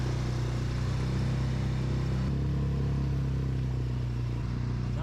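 A brand-new outboard engine being broken in on an inflatable boat drones at a steady moderate throttle, close and continuous, with water hiss around it and no talk.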